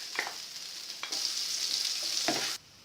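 New potatoes sizzle and fry in butter in a pan over lowered heat, with a few stirring scrapes breaking through the steady crackle, which cuts off abruptly near the end.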